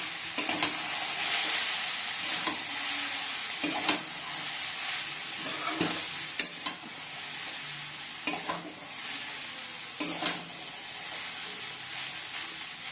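Fried eggs tossed with chow mein noodles in a pan give a steady soft sizzle, broken by repeated scraping and clanking strokes of a spatula, close and moderately loud with no talk.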